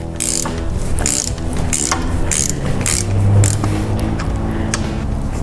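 A ratchet with a 9/16 socket backs out water pump bolts on a 429/460 big-block Ford engine, giving quick repeated clicking strokes in a steady rhythm, close and clear with no talking.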